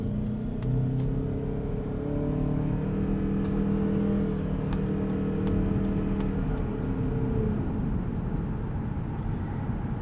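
A 2025 Mazda CX-50 Hybrid with a Toyota-built engine and eCVT accelerates, giving a steady, droning engine hum with a rising tonal whine that holds for several seconds, heard from inside the car.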